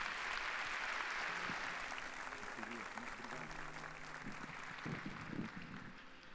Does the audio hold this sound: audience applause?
yes